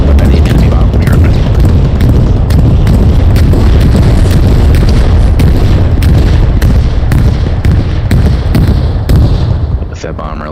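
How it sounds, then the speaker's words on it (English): A bomb blows up a repair station in the Hell Let Loose battlefield game, with loud, dense rumbling blasts and booms that roll on continuously without pause before easing slightly at the end. "that repair station that gets blown up by the enemy bomb"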